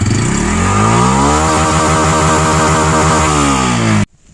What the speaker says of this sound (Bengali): এক্সজস্ট সাউন্ডটা এখন কিন্তু মোটামুটি ঠিক আছে, কোনো সমস্যা নাই